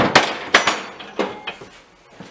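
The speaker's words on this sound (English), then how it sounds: "We're just adjusting the header pipe with the hammer." Several sharp metallic hammer blows on a steel exhaust header pipe for a 1963 Mercury Comet with a Chevy engine, struck at an irregular pace up close, each clang ringing briefly before fading.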